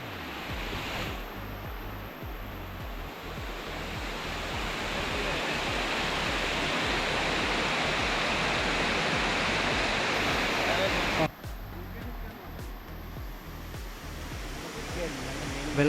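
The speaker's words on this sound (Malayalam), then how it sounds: "ശരിക്കും വനത്തിനുള്ളിലുള്ളൊരു വെള്ളച്ചാട്ടമാണ്" A waterfall deep in the forest at Gavi roars as a steady, dense rush of falling water heard from nearby, holding constant for about eleven seconds before dropping slightly as the scene shifts.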